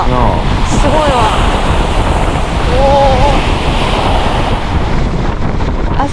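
Strong seaside wind roars continuously and loudly into the microphone, with surf rumbling underneath and people talking briefly through the gusts.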